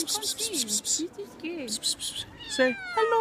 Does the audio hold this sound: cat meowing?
yes